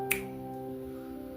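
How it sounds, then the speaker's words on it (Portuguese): A single crisp finger snap rings out close by near the start, then fades beneath steady sustained musical tones that hold through the rest of the moment. "no estalar de dedos, Ele pode mudar toda a tua história."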